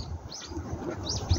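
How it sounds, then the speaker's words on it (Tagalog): Faint, brief chirps of a bird call in a lake park, a few quick rising notes heard at a distance over soft outdoor background noise. "Huni ng ibon."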